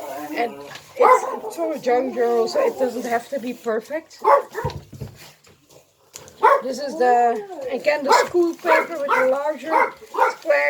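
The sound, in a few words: dog barking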